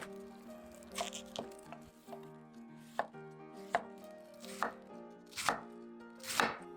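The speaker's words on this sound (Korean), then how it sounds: "양배추는 심지를 잘라내고 가늘게 채 썰어요." Finely shredding cored cabbage with a kitchen knife on a board, a steady series of crisp chopping strokes, each a sharp crunchy cut, close and fairly quiet with no talking.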